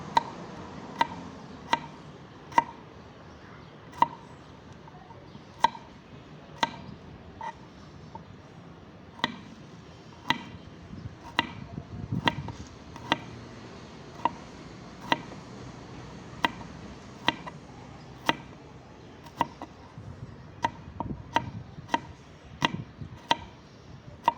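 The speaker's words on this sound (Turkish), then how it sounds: "İki diş de sarımsak doğruyoruz." A knife chops two garlic cloves on a cutting board for a chicken sauté, giving sharp, evenly spaced taps close up, steady at first and then quickening into faster bursts, with no talk over them.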